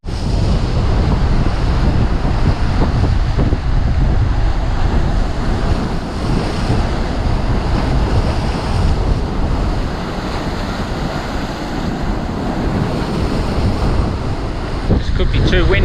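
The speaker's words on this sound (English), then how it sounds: "It's just blowing very strong, it's hard to get out of the wind." Strong wind roars and buffets the microphone without letup on an exposed beach point in East Arnhem Land, with surf rumbling underneath, loud and constant throughout.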